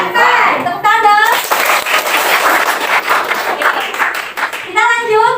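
Students in a classroom clap their hands together in a loud, dense burst lasting a few seconds, with children's voices speaking before and after the clapping.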